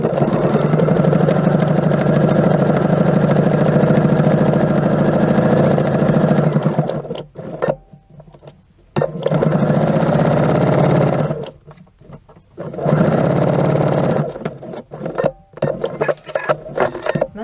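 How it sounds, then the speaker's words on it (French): A sewing machine stitches around the edge of a three-layer fabric face mask, running in three long loud whirring bursts separated by short pauses, with lighter handling noises in between. "je vais venir coudre tout autour à la machine"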